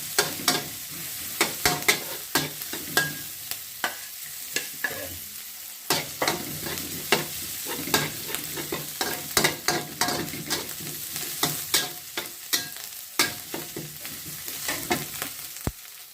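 Fresh chili and garlic stir-fried in a pan for a Thai basil pork dish, a constant oily sizzle punctuated by rhythmic sharp scrapes and clacks of a spatula against the metal.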